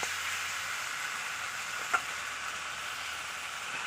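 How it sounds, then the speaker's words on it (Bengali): Fried potato pieces sauté in a pan for a vegetable curry, giving a faint, even sizzle with one small clink partway through and no voices. "আলু দিয়ে আমি আরো কিছুক্ষণ কষে নেব"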